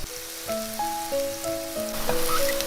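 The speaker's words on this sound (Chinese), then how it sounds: "杏鲍菇也同样煎到两面金黄" Slices of king oyster mushroom fry in oil in a flat pan, giving a soft crackling sizzle. A gentle melody plays over the frying, and the crackle grows a little denser toward the end.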